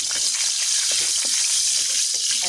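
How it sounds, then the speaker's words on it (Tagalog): Garlic sizzles in used cooking oil, a bright, steady, close frying hiss that holds at even loudness for a couple of seconds. "Ito yung used oil. Nagisa tayo ng bawang."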